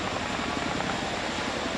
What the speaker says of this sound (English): First time I've ever been on a helicopter or a Chinook